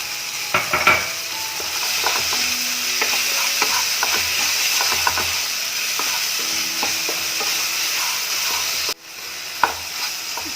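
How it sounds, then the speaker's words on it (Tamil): Coconut sautéing in a pan with tomatoes for crab masala, loud continuous sizzling under frequent scraping and clinking of a spoon against the metal pan, close up with no talking. "தேங்காய் போட்டு ஒரு 2 மினிட்ஸ் நம்ம வதக்கணும்"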